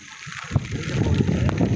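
Rainwater from heavy rain gushing and splashing close by, a continuous flowing rush that swells after a brief quieter start.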